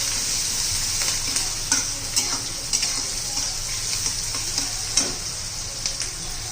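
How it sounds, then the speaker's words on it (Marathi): Onions sautéing in oil in a pan for a cluster bean dish, a constant hiss of frying with periodic scrapes and taps of a stirring spoon, close and without talk. "आता कांद्याचा कच्चेपणा जाईपर्यंत आपण परतून घेणार आहोत."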